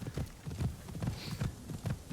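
Horse hooves on Kiri, a horse ridden in Assassin's Creed Shadows, clopping in a steady loping rhythm with a soft low thud on each step, close and moderately loud with no talk.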